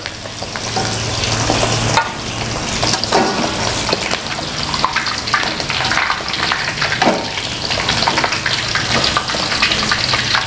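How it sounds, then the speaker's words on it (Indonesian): Tofu, tempeh, chicken and fish fry in hot oil with a loud, steady, crackling sizzle that goes on throughout, close up and without talk. "Sekarang tinggal goreng tahu, tempe, ayam dan juga ikan keranjangannya teman-teman."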